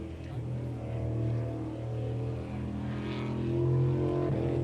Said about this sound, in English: The boat doesn't sound very happy.